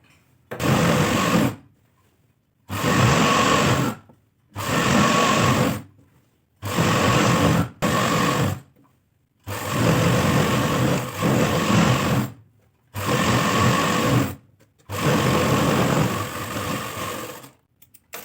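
A sewing machine stitches an Afghani salwar in repeated bursts, each a close, loud mechanical whir lasting one to three seconds, separated by short pauses.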